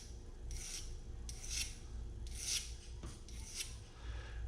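A 1911 trigger part is honed on a fine India sharpening stone in four steady back-and-forth rasping strokes, close and clear, over a low background hum, with no speech.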